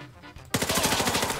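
Rapid automatic gunfire from the Warface shooter game bursts in suddenly after a quiet half second, rattling off in an even string of closely spaced shots.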